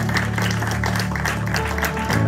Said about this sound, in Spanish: Give a hand clap unto the Lord.